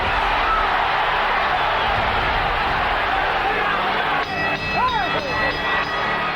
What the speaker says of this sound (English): The crowd, many from Mexico, should erupt with applause at the bell.